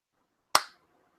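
A single sharp hand clap, close and crisp, with a short decay into silence.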